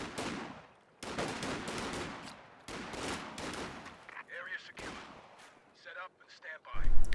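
Bursts of MG34 machine gun fire in Company of Heroes 2, repeated rapid volleys in several loud clusters with short pauses, mixed with other battle sounds and a voice talking over parts of it.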